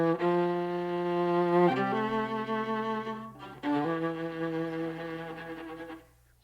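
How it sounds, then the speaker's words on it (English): A solo violin plays sustained, clean notes with a brief pause in the middle, then fades out at the end. "Just a clean violin sound."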